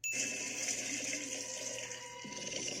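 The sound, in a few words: water pouring into a bathtub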